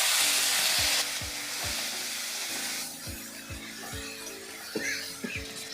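A taro and rohu fish curry is stirred in a pan under a fading sizzle, with a loud hiss at first that settles as spoon scrapes and clinks mark a steady rhythm.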